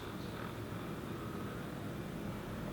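Massage gun with a flexible attachment running at a higher speed, giving a steady, continuous motor buzz and whir with no break in level.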